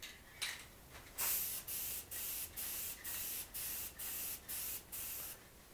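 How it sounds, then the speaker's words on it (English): An aerosol can sprays lacquer onto a CNC-carved wooden dice vault in quick, evenly spaced hissing bursts. About ten short, close sprays follow one another at a steady rhythm, with no talk. "Now, we'll come back, throw some spray lacquer on this"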